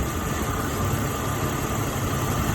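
A 2000 Jeep Cherokee 4WD engine idles steadily at close range with its coolant system being burped, giving a constant low rumble and hum with no talk.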